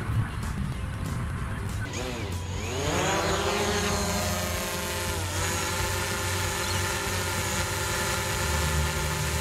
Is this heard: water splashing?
no